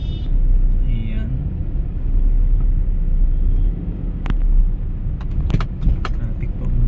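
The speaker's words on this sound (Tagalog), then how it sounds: "Traffic po ng bahagya." Street traffic rumbles steadily near the Mall of Asia area, with cars passing and a low engine drone, plus a few sharp clicks and jangles close by.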